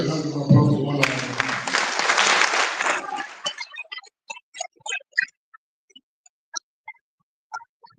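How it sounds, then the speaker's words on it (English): A ceremony audience applauds at the launch of a Nigerian teachers' council portal. The clapping is full and steady for a few seconds, then thins to a handful of scattered, isolated claps. "Big congratulations and round of applause to all of them."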